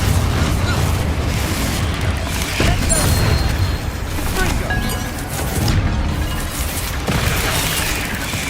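Confringo, a fiery blast spell cast in the video game Hogwarts Legacy, set off as loud booming explosions that roll continuously through a dense, full wash of game sound.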